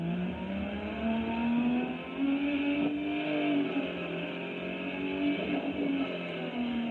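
A race car engine in a simulator game drones steadily from inside the cockpit, its pitch rising and falling as it accelerates through gears, continuous and fairly loud.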